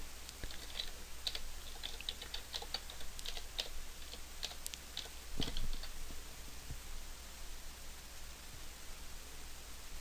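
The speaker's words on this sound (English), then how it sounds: "Here's where we type our YouTube channel name." A YouTube channel name is typed on a computer keyboard as light, rapid keystrokes, then a short pause and a louder clack, all over a steady hiss.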